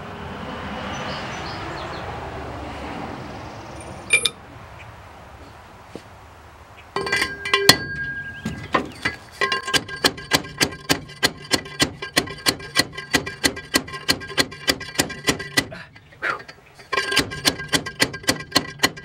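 Metal retainer ring driven onto a Dodge 8.75 rear axle for a 1953 Ford F100 build, beginning as a jumble of shop clatter and then settling into a long run of rapid, evenly spaced ringing hammer blows, loud and close.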